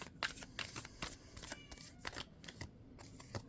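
A tarot deck is shuffled by hand, giving soft riffling and papery flicks that come in quick irregular bursts, close and quiet.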